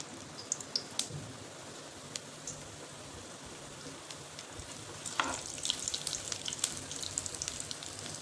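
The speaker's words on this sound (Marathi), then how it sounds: "तेल तापले त्यामध्ये घालायचे जिरं" Cumin seeds crackle and sizzle in about four spoons of hot oil in a home kitchen pan, with a steady frying hiss and scattered sharp pops that grow denser toward the end.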